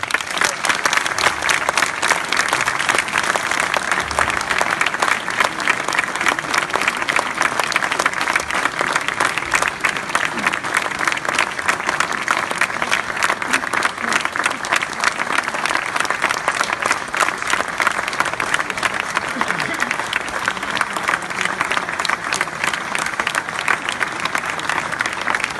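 A crowd applauds loudly and steadily for an 87-year-old survivor of the Bois du Cazier mining disaster who spent 27 years in the pit, the dense clapping sustained without a break throughout.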